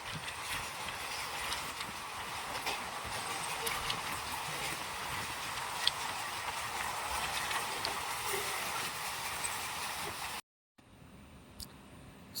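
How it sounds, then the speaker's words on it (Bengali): Passenger train running through the night between Azimganj and Nimtita, around 2:52 am, passing a station. A steady, even rumble with faint clattering holds for about ten seconds, then cuts off abruptly and returns more quietly. "আমাদের ট্রেন পার করছে"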